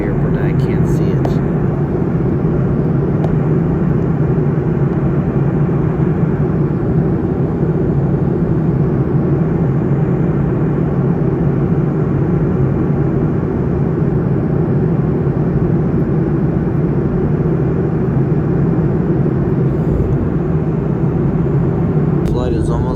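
Steady, loud cabin drone of an American Airlines Boeing 737-800 airliner in cruise flight, a continuous low rumble and engine hum filling the space with no break for its full length.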